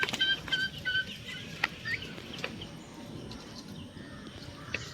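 A rooster and hens on a poultry run give short, close clucks and calls in the first couple of seconds, then fainter scattered clucks and chirps over low background noise.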